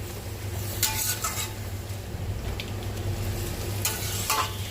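Ground spices fry with a low steady sizzle in a pan of coconut oil while a spoon stirs them, giving a few soft scraping strokes against the metal over a constant hum.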